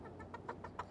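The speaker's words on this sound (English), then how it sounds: "We'll say hi to the hens." Hens cluck in a cold winter greenhouse, a close run of short, evenly spaced clucks over a steady low background.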